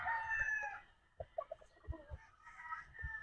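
A gamefowl rooster, a claret stag, lets out a crow at fairly close range, followed by a few scattered clucks and short calls. Soft voices murmur in the background.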